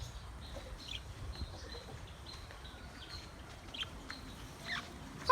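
Chickens in a backyard coop give soft, scattered clucks and short calls over a quiet, steady background, faint and somewhat distant throughout.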